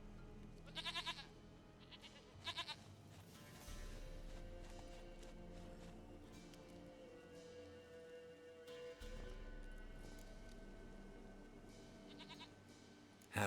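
A goat in The Witcher 3 lets out a few short, quavering bleats in separate bursts over a low, steady game ambience, fairly faint, with no one speaking.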